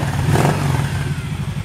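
A Kawasaki Vaquero touring motorcycle revs close up at a Texas dealership, with one strong throttle blip early that settles back into a rough, clattering idle.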